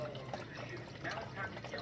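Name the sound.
goldfish aquarium water pump and filter running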